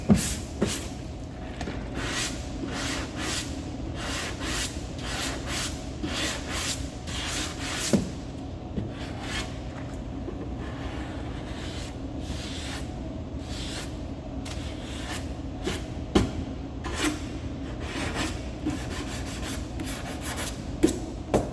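A sanding block rubs by hand across body filler on an aluminum bed of a 2016 Ford F-150 truck, making steady, close back-and-forth scraping strokes in an even rhythm with no talking.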